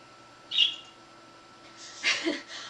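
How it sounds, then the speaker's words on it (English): Two short, bright budgie-like chirps from a computer sound effect ring out about a second and a half apart, the second one fuller and longer, against a quiet background. "Whenever a program opens, it makes a budgie chirp"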